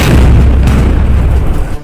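A powerful 155 mm Sarang artillery gun fires during testing at a firing range near Jabalpur, producing one loud, deep, rumbling boom with a long roaring tail that fills the whole moment.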